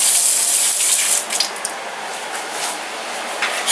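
Running tap water splashes as a spoon is rinsed under a kitchen faucet, loud and close at first, then settling to a steady, softer trickle with small splashes.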